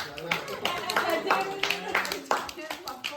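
A small group of people at a family wedding anniversary celebration at home claps in short, uneven bursts at close range, mixed with chatter and voices talking.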